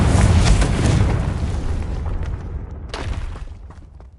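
A booming Confringo spell explosion in Hogwarts Legacy is loud and close at first, then rumbles and fades, with a second smaller burst near the end.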